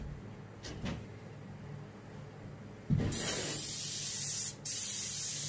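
Spray paint hisses onto a muskie taxidermy mount: a couple of short bursts first, then a long, steady spray that breaks briefly before starting again.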